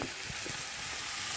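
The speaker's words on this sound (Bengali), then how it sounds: "ডালটা দিয়ে খুব ভালোভাবে নেড়ে নেব" Chana dal for dalpuri filling is stirred and fried in a pan, making a soft steady sizzle with faint scraping stirs and no talk.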